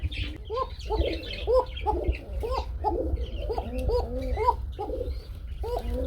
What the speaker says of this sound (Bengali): এক জোড়া কুকা কবুতর রয়েছে